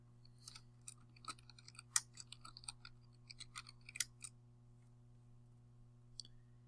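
Computer keyboard typing as a job applicant's name is entered into a resume, with scattered light key clicks at an irregular pace over a steady low electrical hum, fairly quiet and close.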